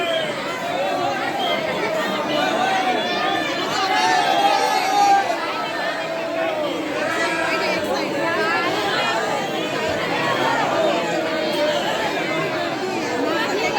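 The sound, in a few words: crowd chatter at Banke Bihari temple in Vrindavan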